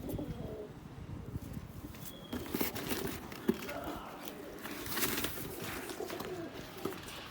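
Newly acquired pigeons cooing softly nearby with low throaty calls, under faint rustling and background noise.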